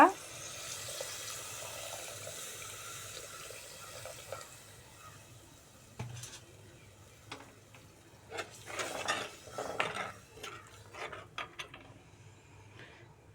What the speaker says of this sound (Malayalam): ആവശ്യത്തിന് പുളിവെള്ളം ഒഴിച്ചു കൊടുക്കുക